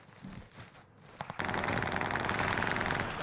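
An MP40 submachine gun in Warzone Pacific fires a long, rapid, unbroken automatic burst, loud and close, after a few quieter moments.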